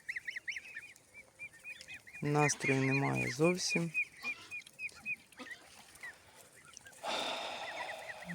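Geese honk and chickens cluck repeatedly in a busy farmyard, a loud burst of honking in the middle, while a person speaks briefly nearby.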